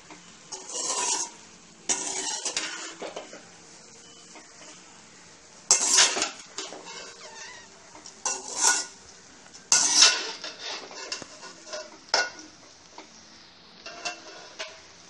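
Fried rice being stirred gently in a metal pan, with intermittent bursts of spatula scraping and clinking against the pan separated by quieter pauses, close and moderately loud with no talking.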